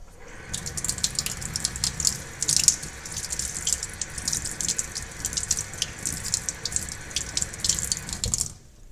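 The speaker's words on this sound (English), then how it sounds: "When we are using my brushes, you are going to make sure that you are rinsing it out." Tap water runs steadily into a sink while paint brushes are rinsed by hand, a continuous close splashing hiss with small shifts in flow for about nine seconds, and no one speaks.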